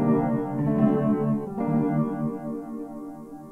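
An upright piano run through Ableton's Spectral Time effect gives a smeared, shimmering wash of overlapping repeated tones that swell and blur into one another and fade out softly, with no talking.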